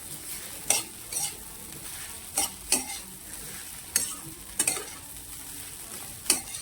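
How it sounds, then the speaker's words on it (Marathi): Sabudana khichdi fries in a pan under a low, steady sizzle, broken by about eight quick, distinct scrapes of a spatula as the grains are turned from bottom to top at an uneven pace. "अशा प्रकारे पूर्ण खिचडी खालीवरी परतून घ्यायची आहे"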